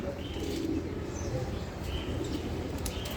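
Pair of sabji racer pigeons cooing steadily at close range over a dense, continuous low murmur, with soft chirps and a faint flutter of wings mixed in.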